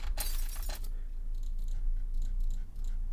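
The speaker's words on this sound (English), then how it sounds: "And then this little glass break noise." A short glass-shatter sound effect used as a crash in a beat bursts out loudly at the start and fades into faint tinkling hits over a steady low bass hum.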